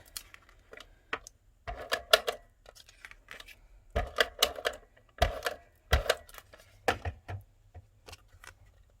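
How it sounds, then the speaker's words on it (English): An ATG adhesive tape gun lays tape onto a card base during an alcohol ink card-making project, giving close, crisp clicking and rattling bursts in irregular clusters with short quiet gaps and no talking. "So I just have my ATG gun."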